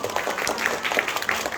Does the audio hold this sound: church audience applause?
yes